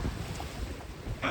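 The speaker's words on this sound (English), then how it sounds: "there's about 12 knots of true wind, but it's gusting to 18" Gusty wind buffets the microphone aboard a sailboat on a flat lake, about 12 knots gusting to 18; a steady low rumble of wind noise runs throughout with water wash, swelling louder near the end.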